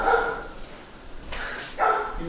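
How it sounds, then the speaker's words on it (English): A dog barks nearby in two short bursts separated by a brief pause, sharp and fairly loud in a quiet room. "You mean my dog?"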